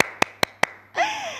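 Clapping for Por Rot during a home live stream: three sharp, evenly spaced hand claps, close and distinct, followed by a brief vocal sound.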